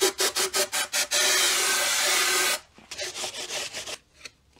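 Towel rubs excess oil off a Classic Mini cylinder head, close rhythmic wiping strokes, first in quick repeated swipes, then one long smear, then softer, more scattered rubs, heard without talk.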